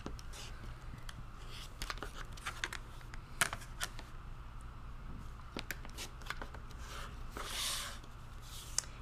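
Fabric being cut with a rotary cutter for a 1.5 inch quilt block piece, quiet crisp snips and rustles, scattered clicks and handling noises, close and faint.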